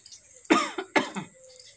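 Two harsh, close coughs from a man with a cold come in quick succession, each followed by a short throaty tail, in an otherwise quiet room.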